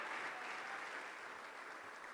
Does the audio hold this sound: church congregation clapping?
yes